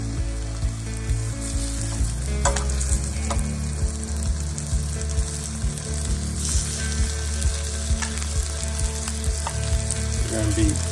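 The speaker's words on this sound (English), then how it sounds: "Got a little sizzle there, so that tells me we've got a decent temperature going." Sesame-crusted ahi tuna sears in a hot pan with a loud, constant sizzle, punctuated by crackles and the scrape of a utensil.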